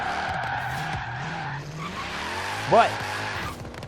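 Mercedes-AMG C63 BiTurbo sliding sideways in Forza Horizon 3, with a sustained tire squeal over the engine drone and a sharp, rising screech near the end, a voice talking throughout.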